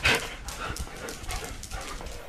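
Excited puppies pant and whimper close by, with quick breathy huffs and a high whine at the start, then irregular panting and soft yips.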